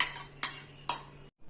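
A metal spoon scrapes and knocks against a cooking pot while cooked dal is stirred into a drumstick-leaf kuzhambu, three sharp clinks spaced evenly over a steady low hum, close and clear, then a brief silence.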